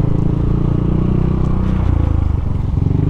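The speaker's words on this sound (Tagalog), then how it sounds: "Kaya lang, maingay yung motor natin." A Yamaha NMAX scooter rides along loudly with a steady, droning engine rumble and road noise throughout, close up and with no voices.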